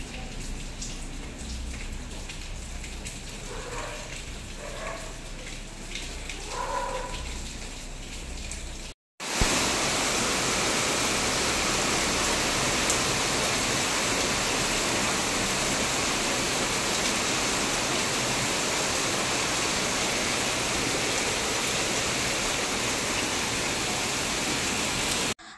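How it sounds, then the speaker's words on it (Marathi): Heavy rain pours outside with a dense, steady hiss; after a brief break, the downpour returns louder and close, continuing without voices. "तुम्ही ते बघू शकता किती मस्त छान असा पाऊस येतोय"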